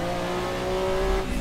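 A Porsche 962C race car engine in the Assetto Corsa racing game at the Nordschleife, a loud sustained turbocharged drone holding a steady pitch before shifting near the end.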